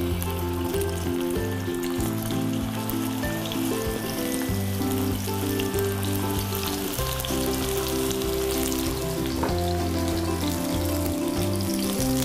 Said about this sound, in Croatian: I pržimo ih na ugrijanom ulju.